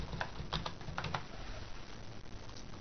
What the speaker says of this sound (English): You can type over the return address if you need to by simply highlighting it and typing